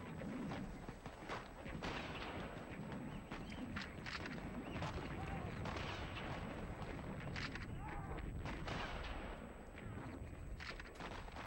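Gunfire in First World War trench fighting with Australian troops, a continuous rough, noisy din with scattered sharp cracks and thuds, steady and dense throughout.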